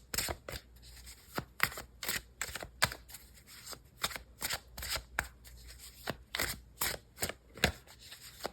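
Tarot cards shuffled and drawn by hand, a run of quick, crisp riffling snaps and papery flicks in an irregular rhythm, close and fairly quiet with no talking.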